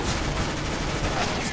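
Rapid bursts of P90 submachine-gun fire in a Counter-Strike: Global Offensive match, a loud, dense fusillade running continuously through the short stretch with a faint voice underneath.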